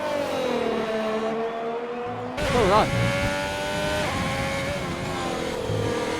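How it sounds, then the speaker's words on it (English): A Honda-engined race car in the racing video game rFactor, on an Italian circuit, whines at high revs; its engine pitch drops, then rises sharply and holds, with a brief burst of tire squeal and a single spoken word. "Honda has got a nice sounding engine."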